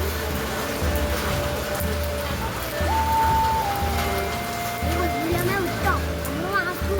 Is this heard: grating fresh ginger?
no